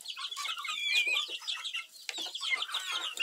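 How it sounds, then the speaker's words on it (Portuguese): Several free-ranging chickens of the Galinha Sertaneja Balão breed cluck and chatter close by, with overlapping bursts of soft, busy calls and no talking. "As galinhas estão todas soltas lá pra cima"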